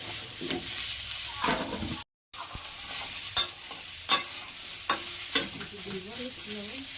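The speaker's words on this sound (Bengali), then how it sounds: "ভেজে নিচ্ছি। তার জন্য পেঁয়াজগুলো তেল দিলাম না, কিন্তু এমনি নাড়াচাড়া করে নেবো।" Onions being stirred and dry-fried in a pan with no oil, a steady low sizzle broken by several sharp scraping strokes of the spoon against the pan, close up with no talking.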